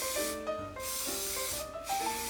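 Hairspray sprayed onto a vintage barrel-roll hairstyle in two sharp hissing bursts from an aerosol can, close and loud, over faint background music.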